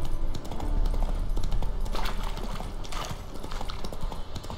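In The Witcher 3, a horse gallops with a quick, steady clip-clop of hooves that stays loud and close throughout.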